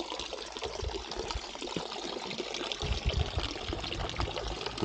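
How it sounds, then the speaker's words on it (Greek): Continuous trickling and splashing of spring water, steady and close, with no talking. "Ακούγεται, έχει νερό."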